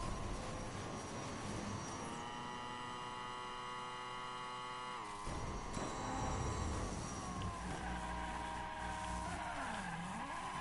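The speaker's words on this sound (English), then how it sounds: "Drifting on the magnetic track, not as easy, doable, but harder because it's magnetic." Loud engine whine from a toy race car drifting on a magnetic track in the Hot Wheels Unleashed video game; the pitch wavers and dips through the turn over a steady hum, with no speech.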